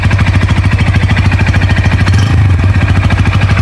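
A Bajaj N160 motorcycle idles close by, its single-cylinder engine thumping in a quick, even rhythm with a slight wobble in the beat near the middle.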